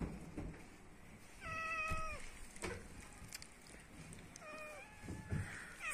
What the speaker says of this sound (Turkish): Bunlar da kedilerim.